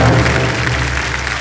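Studio audience applauding on a Kaun Banega Crorepati quiz show set, a dense steady wash of clapping that stays loud and even throughout, with a low musical drone beneath.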